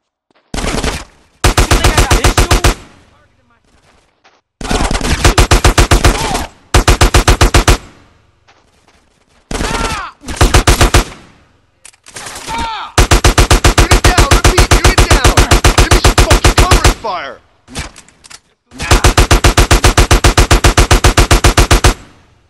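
Rapid automatic gunfire from a shootout in GTA San Andreas Definitive Edition rattles in loud, sustained bursts, broken by short gaps of quiet and a few single shots, with the longest volley running several seconds.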